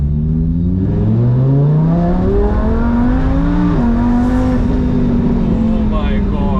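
A Lamborghini Huracan, 630 horsepower with a Lamborghini race exhaust in Corsa mode, roars loud and close as the engine climbs and then drops sharply through downshifts, heard from inside the car.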